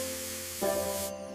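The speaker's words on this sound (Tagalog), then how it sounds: "Plant mister." A plant mister gives a gentle, continuous hissing spray with a faint tonal hum underneath, changing character midway before the hiss cuts off near the end.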